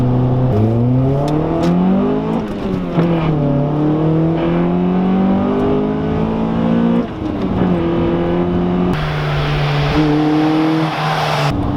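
A Honda Prelude's VTEC engine revs loud and close while driving, its pitch rising and falling through repeated climbs and gear changes, with a harsher surge of intake roar near the end and no talking.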